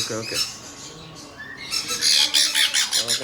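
A conure parrot, likely a sun conure, in a pet shop gives loud, shrill squawks, a brief call early on and then a rapid burst of repeated screeches close to the microphone, with a voice briefly heard.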